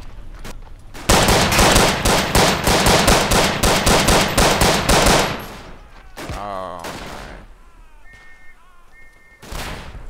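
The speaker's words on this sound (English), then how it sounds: "It's obviously a machine gun that's meant to be deployed" Sustained machine gun fire in the World War I trench shooter Verdun, a dense rapid burst of shots lasting several seconds, followed by scattered game sounds and a later blast.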